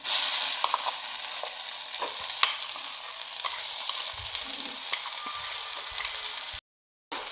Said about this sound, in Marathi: हे व्यवस्थित हलवून ह्याच्यावर हे आपलं मिश्रण जे बारीक केलेलं आहे असं ते ओतून घ्यायचं आहे.